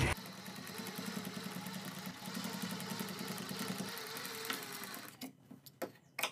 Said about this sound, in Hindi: अब हम इसके दूसरी साइड में सिलाई लगाएंगे